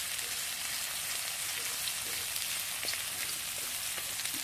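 Steady sizzling of siopao filling, shredded chicken, sautéing in a pan, a continuous hiss with small pops and no voices.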